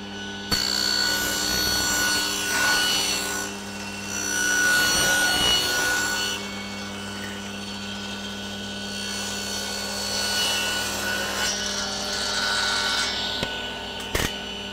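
Power saw ripping timber lengths for a door jamb, a continuous loud blade-in-wood whine and rasp that runs through the whole stretch with slight dips as the board feeds.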